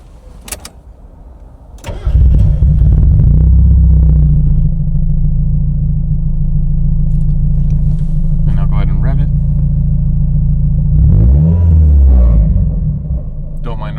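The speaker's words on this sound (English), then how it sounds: "We're going to go ahead and start it up" A Mazda Miata with its soft top on cranks and starts, then settles into a loud, steady idle that runs unbroken for about twelve seconds, with a second brief surge near the end.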